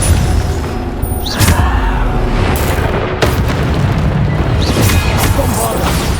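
Bombarda spell explosions in the video game Hogwarts Legacy, loud deep booms with sharp bursts over continuous combat noise, while a voice shouts spell names.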